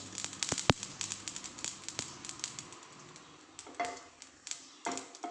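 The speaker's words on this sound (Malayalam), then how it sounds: "ഞാൻ കടുക് ഇട്ട് കൊടുത്തിട്ടുണ്ട് ഗൈസ്. പൊട്ടിക്കൊണ്ടിരിക്കട്ടെ." Mustard seeds crackle and pop in hot oil in a home kitchen pan, a scatter of sharp close pops and snaps at irregular intervals over a light sizzle, with no one talking.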